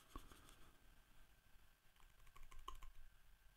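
Computer keyboard keys are pressed while editing in Photoshop, a sparse, irregular run of light clicks with a sharper press at the end, close and fairly quiet over faint background hiss.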